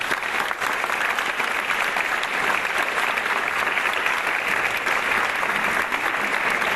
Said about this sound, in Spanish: Para todos ellos les pedimos un fuerte aplauso.